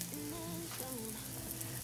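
Onions browning in a single pan for Depression-era onion burgers give a steady sizzle, with sustained crackle under a faint tonal hum and no talk.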